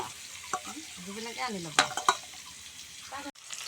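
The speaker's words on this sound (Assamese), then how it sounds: "এয়া তেলত পিঁয়াজ দিয়া হৈ গ'ল।" Sliced onions sizzling in hot oil in a pan, a steady close frying hiss with a few stirring clinks, while a voice speaks briefly over it.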